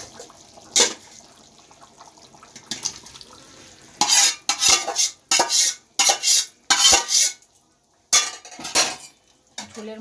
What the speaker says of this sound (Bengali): এবার মাংসের বলগুলো দিয়ে দেবো